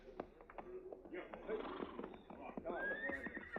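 A horse whinnies loudly with a rising, wavering neigh, heard over overlapping talk and hoof clatter nearby.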